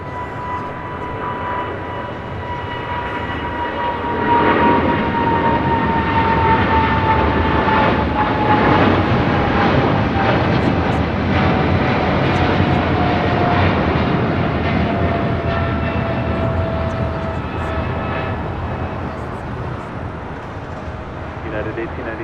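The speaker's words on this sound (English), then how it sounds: "The 777-200ER now rolling down to a very busy 25 at right." A United Airlines Boeing 777-200ER takes off from runway 25 Right at LAX, its jet engines roaring loudly and steadily with a rising whine that swells to a peak and then slowly fades.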